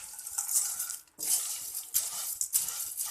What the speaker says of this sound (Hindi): अब अच्छी तरह से इसकी हम भुनाई करेंगे।